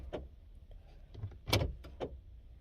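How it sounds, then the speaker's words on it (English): Someone locks a door indoors: a few dull clunks and clicks of the handle and latch, with one louder metallic snap in the middle, close and fairly faint. "Sorry, locked my door."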